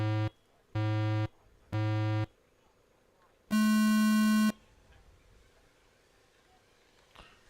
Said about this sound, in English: I will give you your beeps.